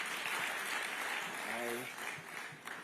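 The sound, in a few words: audience applause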